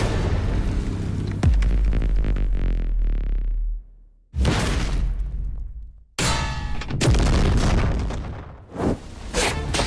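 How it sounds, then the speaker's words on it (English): A bomb blast in an anime fight booms out in a series of heavy, loud explosions with crackling tails, broken by short silent gaps between the bursts. "He manifested a strong bomb in his hands and unleashed it onto Orochi."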